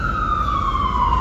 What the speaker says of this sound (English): The siren said it's time to go now